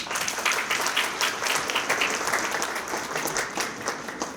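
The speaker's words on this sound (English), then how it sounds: "So give them a big round of applause." A crowd at a chamber of commerce community event gives a big round of applause, many hands clapping in a thick, lively burst that swells and stays steady for several seconds.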